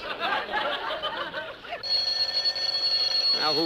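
An old-style telephone bell rings steadily through the second half, loud and continuous, following a stretch of music and voices from a radio comedy show.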